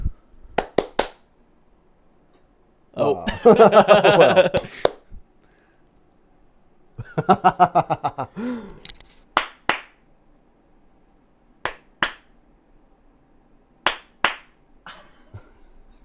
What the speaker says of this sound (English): If you clap 3 times, it'll turn on if you want to try it.